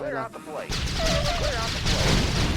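Bursts of gunfire and explosions from the strategy game Yuri's Revenge crackle in rapid succession under excited talking.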